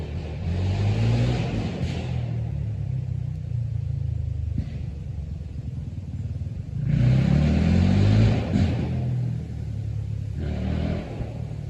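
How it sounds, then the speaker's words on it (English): Motorcycles ride past outdoors on a sunny day, their low engine rumble swelling and fading in passing waves, with a louder surge around the middle of the stretch. "people are out riding their motorcycles."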